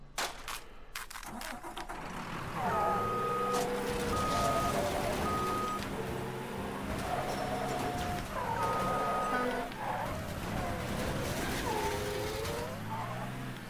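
Truck reverse alarm in Mafia III, steady repeating tonal beeps sounding over a continuous engine rumble and game traffic, fairly close and loud throughout.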